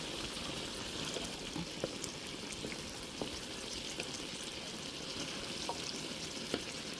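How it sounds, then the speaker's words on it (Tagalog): Pinakbet vegetables frying in a pan, a steady soft sizzle and crackle with occasional sharp pops, close and quiet with no talking. "pumalapit na maluto yung ating pinakbet"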